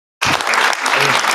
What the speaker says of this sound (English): just one more round of applause for Cynthia.